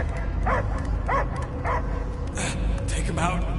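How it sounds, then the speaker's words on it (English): Dog barking and whimpering in the Guardians of the Galaxy video game, several short yelps under game dialogue and music. "I hear only barking."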